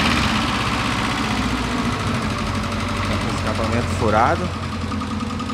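A Ford Escort Zetec engine, run again after three years abandoned, idles steadily with a rough mid-pitched rumble and vibration, close and loud, while someone talks briefly over it.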